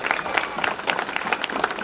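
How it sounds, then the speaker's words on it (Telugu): Audience of schoolchildren and staff at a mock assembly in a Kamareddy district high school clapping together, a brisk uneven patter of many hands with rhythmic peaks, moderately loud and slightly distant. "ఒక గట్టే క్లాప్స్ కొట్టుకోండి"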